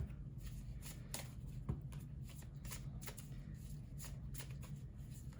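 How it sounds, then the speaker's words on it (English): Tarot cards are shuffled by hand in a quiet room, a soft run of repeated riffling and flicking bursts close to the listener, with no talking. "I'd like to thank everyone for hanging in there with me through this shuffle"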